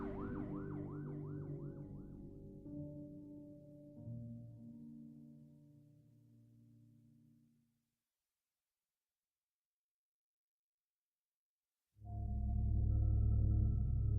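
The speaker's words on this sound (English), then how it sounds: "the sergeant heard a siren blaring" An emergency siren wails in fast warbling cycles, fading out into silence before a loud low rumble starts abruptly near the end.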